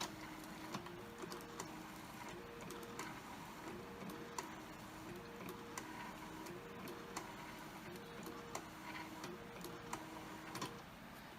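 A BIOVIN S650E/S700E wire sleeve printer prints, giving a faint, steady run of rhythmic mechanical ticks and short whirring print passes repeating evenly throughout.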